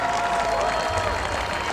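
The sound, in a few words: crowd cheering after a medieval combat fight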